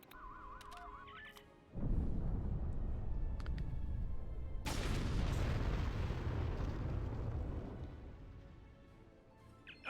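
A grenade detonation in Star Trek Online lands as a loud, sustained rumbling blast that swells, cracks into a second bigger burst midway, then slowly fades out, with no talking over it.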